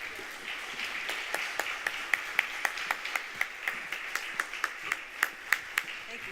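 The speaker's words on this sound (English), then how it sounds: "All right, let's have a round of applause." A keynote audience gives a modest round of applause, a fairly thin, distant patter with a few sharper individual claps standing out in an uneven rhythm, steady at low level throughout.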